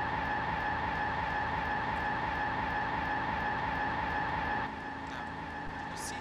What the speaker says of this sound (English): I press W and the first thing you will notice is that the tires, all of them, start slipping